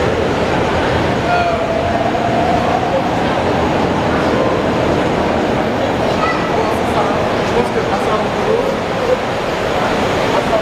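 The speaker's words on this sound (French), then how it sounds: "on doit prendre le métro ou le prochain métro, il est là-bas" São Paulo metro train in a Brazilian station, a constant loud rumble and rolling roar with faint squeal, while someone speaks over it.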